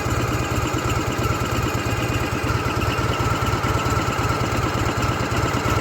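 The engine of a 1993 Ural motorcycle with about 3,000 km on it idles close by, a loud, steady, rapid chugging pulse with no one talking.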